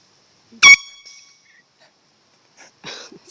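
A single short, very loud air horn blast goes off on a golf course, ringing briefly. Quiet follows, then faint voices and rustling sounds.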